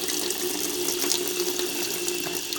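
Hot water pours steadily from a household tap fed by a geyser, a continuous hissing rush that stays close and even throughout with no voices.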